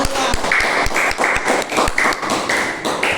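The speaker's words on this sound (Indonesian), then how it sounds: "tepuk tangan dulu untuk kelompok" A short burst of hand clapping in a classroom, sharp irregular claps from a small group close by, with no talking.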